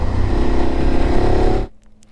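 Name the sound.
BMW F850 GS motorcycle with Akrapovic exhaust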